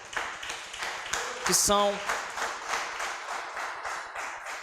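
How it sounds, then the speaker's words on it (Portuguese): A church congregation claps in a steady rhythm while a voice talks over it and a short tonal sound cuts in partway through. "alegre aplauda ao Senhor Jesus com palmas"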